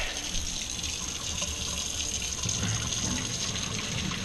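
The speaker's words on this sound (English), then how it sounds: "We're gonna dump a little bit of this water out." Water pours and splashes out of a cooking pot into a sink, a steady close-up gush under a constant hiss for a few seconds.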